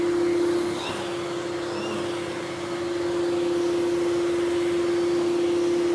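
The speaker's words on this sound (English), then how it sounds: "it just gives us the ability to quickly and easily dry vacuum" An Ashbys Enforcer 400 psi carpet cleaning machine with tank heater dry vacuums a carpet, giving a loud, steady motor drone with a constant whine that dips slightly midway and holds for several seconds.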